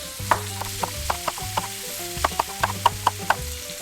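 Food browns in a hot pan with a continuous crackling sizzle, punctuated by sharp taps and knocks of a utensil while it is turned, all over soft background music.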